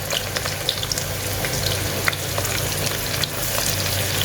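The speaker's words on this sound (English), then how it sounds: "Now I'll add in some chopped onions." Chopped onions sizzle loudly in hot mustard or vegetable oil, a dense continuous crackle with small pops scattered through it, close and unbroken, with no talking.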